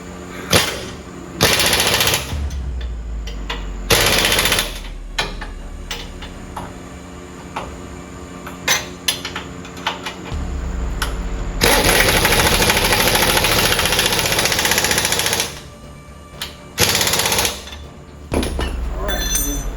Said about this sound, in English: Using a non-impact socket on the impact.